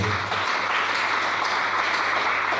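A church congregation applauds the Lord with a dense, even wash of clapping from many hands that holds steady for a few seconds.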